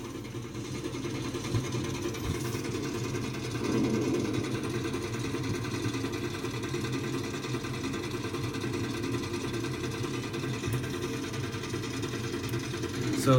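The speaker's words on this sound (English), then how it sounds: "it just makes the loud clickety clack noise" Roller coaster ride in the Planet Coaster video game with a continuous mechanical rattling clatter over the hills, the steady buzzing drone running throughout at even loudness, no one talking over it.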